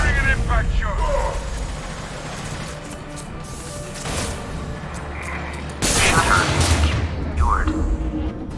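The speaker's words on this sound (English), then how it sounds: "Firing an impact shot!" Impact-shot gunfire in Mass Effect 2: booming heavy blasts with a loud burst near the end, mixed with game sound effects and combat noise, while voices talk throughout.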